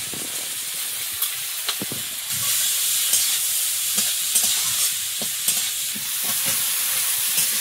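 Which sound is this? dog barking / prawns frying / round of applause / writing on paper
prawns frying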